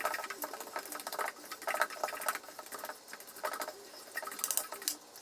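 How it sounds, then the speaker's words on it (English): Banana bread batter being mixed with vanilla extract, giving close, rhythmic bursts of whirring and clicking that come in repeated pulses, with no one talking. "I'm gonna start mixing this up"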